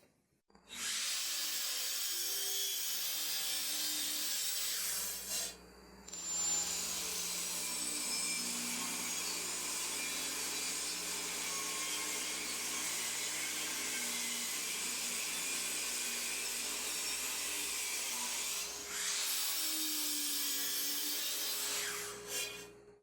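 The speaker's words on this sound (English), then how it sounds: "We're going to cut a 46-inch length" A saw cuts steadily through a white oak board to length, a loud continuous whine with a brief pause near the start and a spin-down at the end, no speech.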